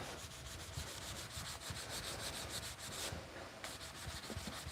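Sandpaper rubs by hand across a wooden windowsill in steady back-and-forth strokes, close and continuous, with a brief pause near the end and no voices.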